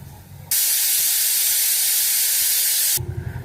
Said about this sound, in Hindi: फ्रेंड्स, एक विसल आ गया है कुकर में